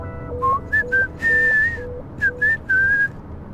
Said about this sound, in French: Tu peux arrêter de siffler.